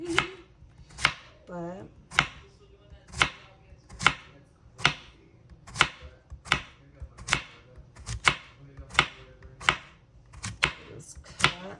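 Knife chopping food on a cutting board, the cook slicing around in a circle while making chipotle honey chicken; steady, close, sharp chops about once a second, with a brief bit of talk near the start.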